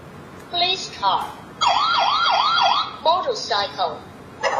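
An electronic police car siren from a children's talking picture book warbles rapidly for about a second and a half. Short synthetic voice phrases come before and after it.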